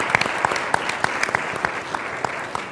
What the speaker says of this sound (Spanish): Así es que un aplauso también para él por acompañarnos.